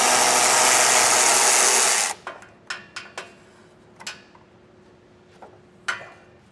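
A ratchet with a 10mm socket loosens nuts on the back of an underbed hitch plate beneath a 2021 Chevrolet pickup. A loud burst of broad noise gives way to scattered sharp, close clicks.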